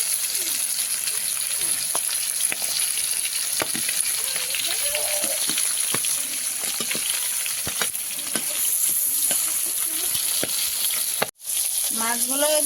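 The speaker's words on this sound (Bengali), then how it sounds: "তেলটা গরম হয়ে গেছে দিয়ে দিচ্ছি মাছ মাছগুলো এবার সুন্দর করে ভেজে নেবো" Fish pieces frying in hot oil make a steady, loud sizzle with occasional crackles and spatters that continue throughout, close by.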